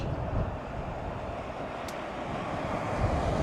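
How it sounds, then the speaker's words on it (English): Steady wind rushing and buffeting across the microphone by a bridge and willow trees in Tasmania, a continuous low roar with no voices. "you can see from the willow trees just how windy it is"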